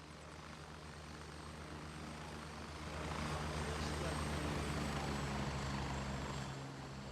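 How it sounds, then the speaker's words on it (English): A video game helicopter drones loudly and steadily throughout, its rotor wash swelling slightly midway, with no break in the engine noise. "Damn choppers, always ruining conversations."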